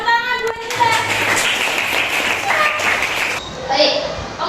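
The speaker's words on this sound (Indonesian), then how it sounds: "Beri tepuk tangan buat kita" Students in a classroom break into a short round of clapping during a sociodrama lesson, mixed with children's chatter and voices, the applause brisk and moderately loud before thinning out.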